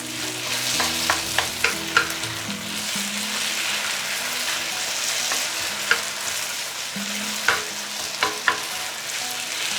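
Flat rice noodles stir-fried over very high heat in a smoking wok, sizzling continuously with scattered sharp clanks of the spatula against the metal, close and steady throughout.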